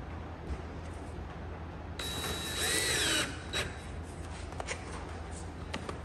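A power drill drives a screw into heavy-duty workshop shelving in one short, whining burst lasting about a second, close by, followed by faint handling clatter in a quiet room.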